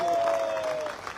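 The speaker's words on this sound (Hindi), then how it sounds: "फिर कैपिंग के लिए कितनी ताली हो जानी चाहिए?" Crowd clapping at a large motivational business rally in Jaipur, a dense burst of applause filling the short moment with a faint whistle-like tone running through it.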